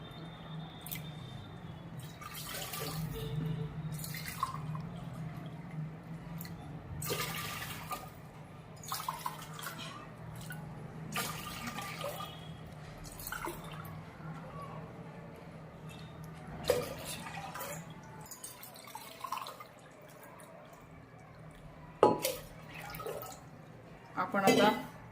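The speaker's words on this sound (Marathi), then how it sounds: "आपण आता 5 पेले पाणी घेतलेले आहे" Water is poured cup by cup into a pressure cooker, giving several separate splashing pours with quieter gaps between them, fairly faint, alongside other kitchen handling sounds.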